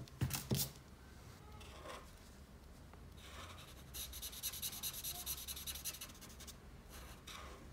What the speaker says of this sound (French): On va gommer les traits au crayon.